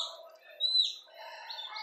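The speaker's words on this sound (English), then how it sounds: "And we have a baby chick." A newly hatched baby chick chirps at close range, with high, thin peeps and a rising-falling whistle in the middle, set over a steady indoor background murmur.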